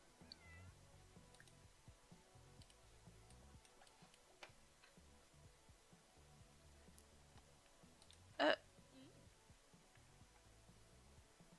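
A single short, clear cat meow from The Sims 4 video game, standing out against faint ticking and quiet background game sounds.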